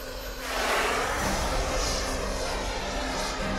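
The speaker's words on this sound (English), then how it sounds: "The team is about to set off the jet for a little test run." Small jet-powered storm-chasing drone engine running a ground test, a steady broadband roar with a rising whine, loud and close, continuous throughout without speech.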